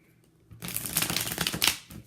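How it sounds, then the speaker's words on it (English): Tarot cards being shuffled by hand, a short burst of rapid papery riffling that starts after a brief quiet moment and runs about a second and a half, close and clear. "I'm just going to shuffle a couple times here"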